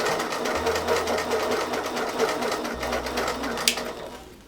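Sewing machine stitching steadily during free motion ruler quilting, a fast even mechanical patter at close range that pauses briefly, with soft handling noises around it.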